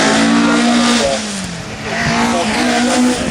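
A Ford Focus Cosworth rally car engine roars close by on a tarmac stage, revving high, dipping briefly as it shifts, then climbing again, loud and continuous.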